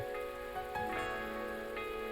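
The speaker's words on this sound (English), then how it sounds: "we're left listening to the rain once more" Steady rain falling on a surface, a dense even patter with a few soft drips and knocks, unbroken and unaccompanied by voices.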